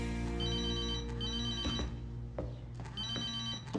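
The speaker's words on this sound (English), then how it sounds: "I hear my phone ring, and I rush to the phone." A telephone rings loudly in two bursts of repeated electronic trills, rising over a sustained musical backdrop.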